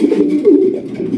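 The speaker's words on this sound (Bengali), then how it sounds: "এটা হচ্ছে রেড চিকার রেসার কবুতর মাশাআল্লাহ, দেখেন কত সুন্দর ডাকাডাকি করতেছে" Red checker racer pigeons coo in soft, continuous rolling calls close by, a steady throaty murmur with a brief rising inflection partway through.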